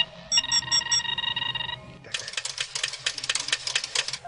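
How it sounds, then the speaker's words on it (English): A typewriter sound effect rattles out a rapid run of mechanical keystrikes after a short series of electronic beeps and a steady tone, loud and close. "Didn't know it was powered by a typewriter."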